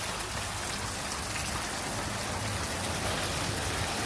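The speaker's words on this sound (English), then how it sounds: "and we woke up to rain." Steady rainfall in North Queensland hisses evenly throughout, a dense wash of drops pattering on surfaces, fairly close and unbroken, with no voices.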